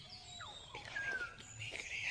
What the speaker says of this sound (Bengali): কত সে পাখির ডাক শুনতে পাচ্ছি